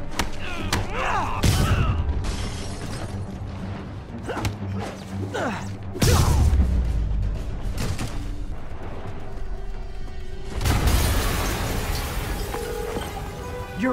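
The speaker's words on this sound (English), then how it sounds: "An explosion just... I saw it." Loud booming blasts from the Spider-Man video game, with heavy low thuds around six seconds and again near eleven, among clattering mechanical noise and brief voices.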